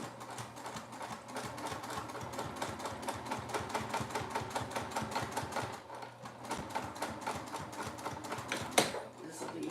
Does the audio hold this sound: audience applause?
no